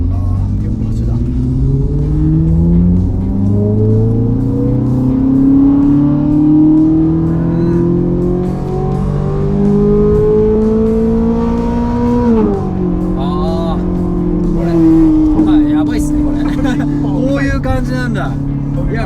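A Ferrari 458 with an aftermarket exhaust revs hard and close, its engine note climbing steadily, dropping at a shift, then pulling up again as it passes; people talk over the roar.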